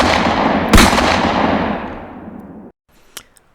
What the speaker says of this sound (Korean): 이번엔 두 발의 총성이 거의 동시에 울렸다.